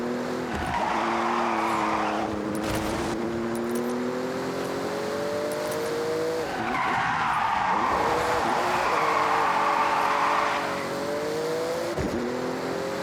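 A rally car racing in the Forza Horizon 6 video game, its engine droning loudly with rising and falling revs through gear changes, tyres skidding and scrabbling on loose surfaces, and a sharp thump near the end.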